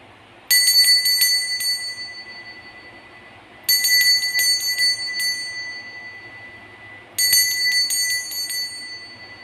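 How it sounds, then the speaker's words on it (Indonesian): Three separate bursts of a bright, metallic bell ring out, each a quick cluster of strikes that decays away, spaced about three seconds apart against a quiet background. "Kita akan mulai saja dengan ditandai lonceng berbunyi."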